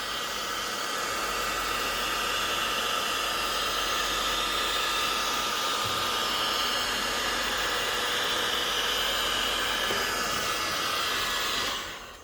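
A heat gun or hot-air blower heats the outside of a Lamborghini Miura's aluminum engine block, a loud, steady close-up rushing roar that runs unbroken before stopping at the end.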